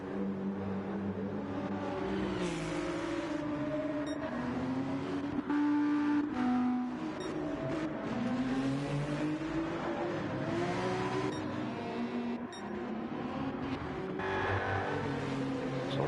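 Race cars in a GT3 racing video game lap a track with a full field, engines droning and shifting pitch steadily as they accelerate and pass, a continuous moderate roar with no voices.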